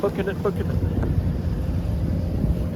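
Wind rushing past a 24-foot San Juan sailboat cruising under a genoa sail, a steady close buffeting roar over the microphone with brief faint tones early on.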